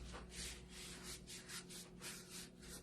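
Repeated rubbing strokes as chalk paste is buffed off a bar decor transfer with an applicator, a steady back-and-forth scrubbing rhythm of about eight strokes, close and moderately loud with no talking.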